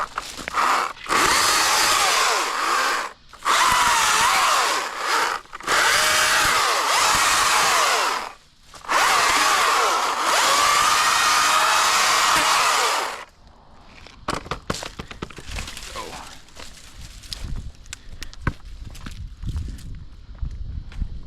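A Stihl PP800 pole saw cuts oak branches in loud, close bursts of engine and chain noise separated by short pauses. After the saw stops, crackling branches, thuds and footsteps follow.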